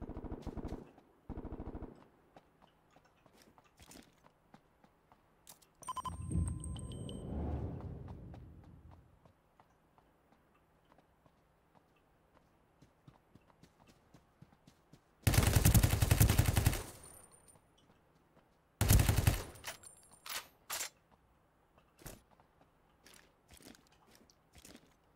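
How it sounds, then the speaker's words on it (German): Fully automatic gunfire in the shooter game Ring of Elysium, two sharp, loud rapid-fire bursts standing out against quieter scattered game sounds and an earlier muffled rumble. "Das ist doch kein Burst, Mann, das ist vollautomatisch."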